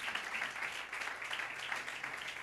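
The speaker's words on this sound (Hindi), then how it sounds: "भाई के लिए ज़ोरदार तालियां बजाएं" A congregation at a church sermon gives a round of applause, steady moderate clapping that swells and dips in waves throughout, with no voices over it.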